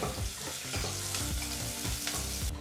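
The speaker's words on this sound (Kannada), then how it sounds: "ಈಗ ಬಹಳ ಚಿಕ್ಕದಾಗಿ ಕಟ್ ಮಾಡಿದಂಥ ಒಂದು ಈರುಳ್ಳಿನ ಹಾಕಿ ಎರಡು ನಿಮಿಷಗಳ ಕಾಲ ಮೀಡಿಯಂ ಫ್ಲೇಮ್ನಲ್ಲೇ ಫ್ರೈ ಮಾಡ್ಕೋಬೇಕಾಗುತ್ತೆ" Finely chopped onion fries in hot oil over a medium flame for a radish gravy, making a close, loud, continuous sizzle with crackling stir noises throughout.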